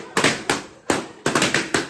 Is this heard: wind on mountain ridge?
no